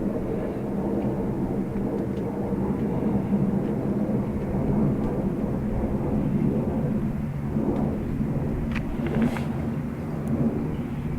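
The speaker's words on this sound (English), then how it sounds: "We have a departure crossing the runway, I think." A departing aircraft at Dublin Airport rumbles overhead in a steady, broad, low roar that holds throughout without fading, with no voices.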